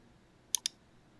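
A computer mouse gives two quick, crisp clicks in close succession, faint and close against a quiet room.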